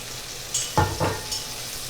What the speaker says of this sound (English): Give everything a nice stir.